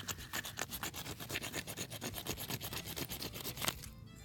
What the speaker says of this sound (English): And then you scrape a bunch of this on there.